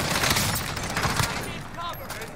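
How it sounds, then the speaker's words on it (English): Rapid automatic gunfire from a Call of Duty Warzone match, a dense continuous burst of shots running under excited player voices before tapering off near the end. "This gun shoots so fast, bro."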